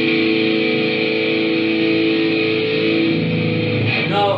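Schecter Apocalypse electric guitar on the bridge pickup through drive, delay and hall reverb, a single sustained distorted chord ringing out for several seconds, with a brief pick scrape near the end, no voices.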